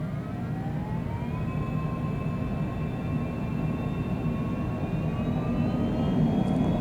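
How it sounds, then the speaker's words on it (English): Aircraft engines spool up with the brakes held before takeoff from Montauk, a loud steady roar with whining tones that slowly rise in pitch over several seconds, constant and close. "Hold those brakes, spool those engines up."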